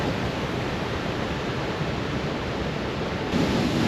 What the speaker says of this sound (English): I think there's a waterfall, which was the initial plan.